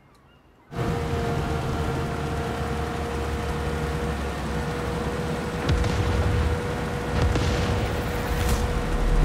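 Explosive charges blow up ships in the video game Far Cry 6: after a brief quiet moment a dense, loud roar of burning and rumbling blasts sets in and continues throughout, with a few sharper booms swelling later.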